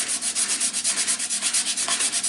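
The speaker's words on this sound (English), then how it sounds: "And we can sand with the grain as well." Ebonized wood on a woodturning piece is sanded along the grain, producing a steady rhythmic rasp in quick back-and-forth strokes, close and clear, with no voices.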